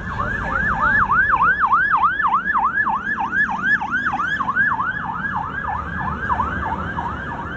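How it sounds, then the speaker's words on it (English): A Halifax Fire Engine 6 siren yelps in a fast, repeating rise-and-fall pattern, loud and close, over a low engine rumble. "Fire truck's coming."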